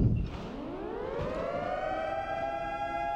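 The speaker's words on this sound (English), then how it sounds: "oh, there's the sirens." Tornado warning sirens in a Roblox game wail as a single rising tone that climbs and then holds a long, sustained pitch, moderately distant and with no speech over it.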